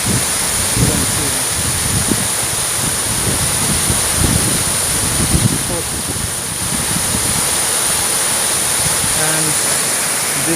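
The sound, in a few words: Rimbi waterfall in Pelling, Sikkim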